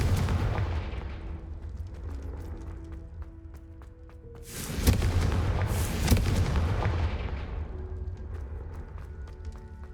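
A Confringo spell explosion in the video game Hogwarts Legacy, with rumbling booms and two sharp blasts in the middle over a constant low game background.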